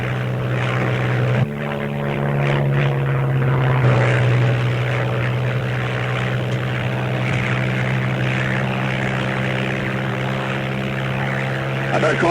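A propeller aircraft engine drones steadily in flight, a loud, continuous hum with a strong low tone that shifts pitch slightly early on, with faint voices underneath.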